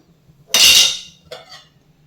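A lid set down on a steamer of bread in a kitchen gives a bright metallic clatter, followed a moment later by a softer second clink, close and alone.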